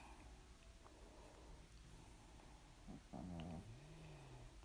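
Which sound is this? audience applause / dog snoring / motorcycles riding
dog snoring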